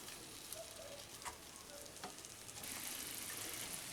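Snake gourd cooking with poppy seed paste in oil over a low flame, a soft, steady sizzle with a few faint stirring taps, quiet and without talk.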